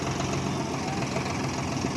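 An Agriking tractor idles at a farm demonstration in a Punjab village, its engine giving a constant, loud, even drone throughout.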